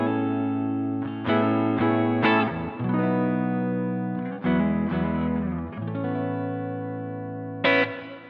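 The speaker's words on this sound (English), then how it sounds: "And we get this really nice stereo reverb." An electric guitar played through the stereo reverb of a Boss ME-90 multi-effects unit. Sustained chords ring out in distinct strums with long washy tails, alone and fairly loud.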